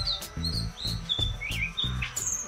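Small bird chirping outdoors, a series of short, bright tweets spaced irregularly over a low steady background rumble.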